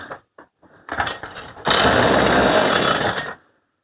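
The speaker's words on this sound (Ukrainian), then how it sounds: "Ось все, бензин випалює і зразу глохне, так вона так вона працює" A Stihl 181C chainsaw with a faulty carburetor gives a few short coughs, then catches and roars loudly for under two seconds before abruptly stalling into silence.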